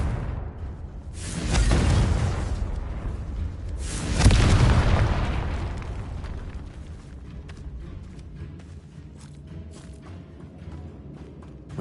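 Two heavy booming blasts of the Confringo fire spell in Hogwarts Legacy go off about two seconds apart, each with a rumbling low tail that fades into a lingering crackle.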